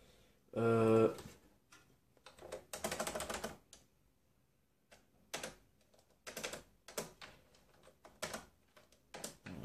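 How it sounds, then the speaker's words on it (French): Keys clatter on a computer keyboard in irregular bursts of quick taps, close and fairly quiet, after a brief tonal beep at the start. "le clavier a l'air de fonctionner bien"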